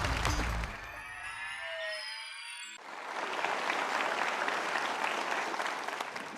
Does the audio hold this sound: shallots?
no